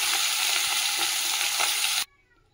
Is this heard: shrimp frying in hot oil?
yes